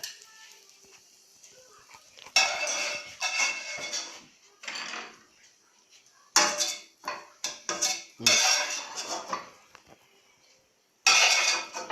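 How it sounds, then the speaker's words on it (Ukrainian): Dishes and cutlery clatter in bursts as fried food with onion is laid out onto a plate in a home kitchen, with quiet scraping gaps between the louder clinks. "Все акуратно розкладаємо на тарельку."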